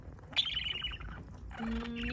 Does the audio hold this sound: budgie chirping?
yes